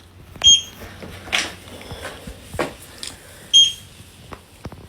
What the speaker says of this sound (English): Ignore that beeping that's the fridge because it's open.